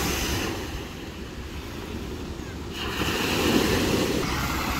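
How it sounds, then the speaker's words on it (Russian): Sea waves break against rocks in a bay near Vladivostok in September, a steady wash of surf with wind noise, swelling louder partway through. "Там вдалеке волны бьются о скалы."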